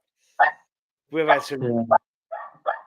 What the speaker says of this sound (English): if you can hear the dog barking in the background.